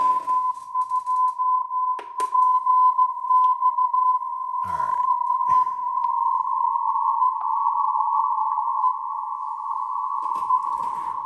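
A steady tone around one pitch holds throughout, a weak continuous-wave beacon on a Ten Tec 340 radio receiver, with brief clicks and a short spoken remark early on.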